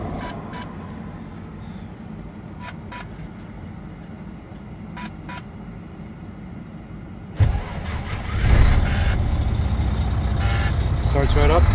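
A 2007 Volvo VNL 780 truck engine cranks and catches partway through, jumping from quiet cab ambience with faint ticks to a loud, steady diesel idle close by.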